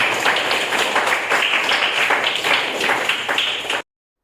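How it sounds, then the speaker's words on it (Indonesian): An audience claps together in steady, dense applause at a morning school presentation session. The clapping stays loud and even for nearly four seconds, then stops abruptly. "Tepuk tangan dulu untuk itu."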